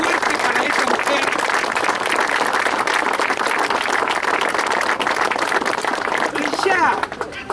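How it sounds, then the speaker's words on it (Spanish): Loud, sustained audience applause at a commemorative political rally marking the 1966 coup, dense clapping filling the whole stretch with crowd noise and scattered shouts, easing slightly at the very end. "Un aplauso muy fuerte para esa mujer."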